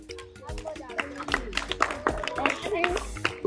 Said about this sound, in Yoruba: Ó yá, ẹ pàtẹ́wọ́ fún wọn